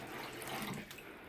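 Tap water runs into a dog's water bowl at a kitchen sink, a steady rushing splash lasting the whole moment, fairly quiet and uninterrupted by talk.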